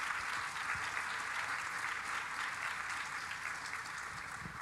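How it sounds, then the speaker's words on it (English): Steady, dense applause from an audience as pageant finalists leave the stage, sustained evenly at moderate loudness throughout, with no one speaking over it. "Give them a warm round of applause, please."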